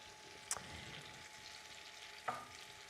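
Vegan French toast slices sizzle quietly in a frying pan, a faint steady crackle with two brief sharper clicks or pops along the way.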